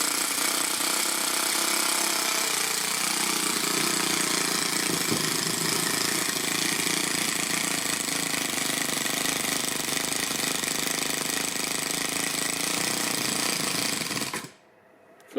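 A Toyan FS-S100AC miniature four-stroke model engine runs at a fast, steady buzzing rattle, loud and close, holding an even pitch for about fourteen seconds before cutting off abruptly.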